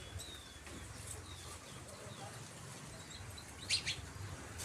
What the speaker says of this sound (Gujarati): જો બે સકલિયું છે.